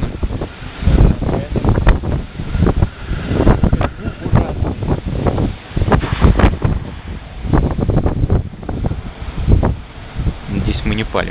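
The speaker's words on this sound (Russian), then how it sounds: "Ветрище, конечно." Strong wind buffeting an outdoor microphone, loud irregular low rumbling gusts that pulse and thud throughout, with a voice speaking intermittently over the noise.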